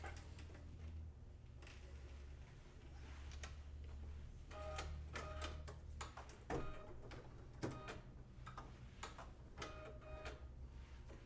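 Kimberbell embroidery machine stitching a bunny's pink nose and mouth, a steady mechanical whir with fast rhythmic ticking and clicking throughout, fairly quiet and close.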